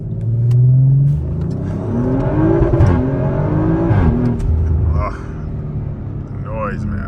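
A 500+ hp Audi RS5 engine revs and accelerates hard on a forest road, loud and close with rising and falling pitch sweeps through gear changes, while a voice speaks over it.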